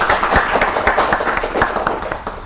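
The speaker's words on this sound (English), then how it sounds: "Give applause to the third group." Students in a classroom clap for a group, a small number of hands producing close, brisk, uneven claps in a quick rhythm that fades slightly toward the end.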